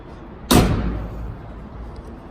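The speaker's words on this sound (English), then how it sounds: "Door shuts nice." A single solid slam as the door of a 1964 Corvette Roadster shuts, close and loud, with a short decaying ring before quiet room tone.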